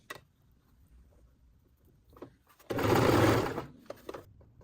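A sewing machine stitches fabric for a military forage cap, running in one steady, close whirring burst of about a second amid quiet handling noises.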